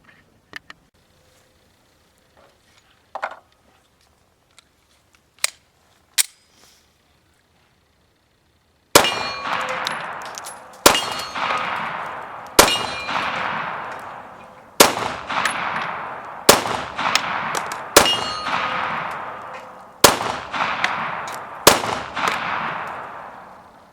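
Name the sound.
pistol firing Remington UMC 115 grain jacketed hollow points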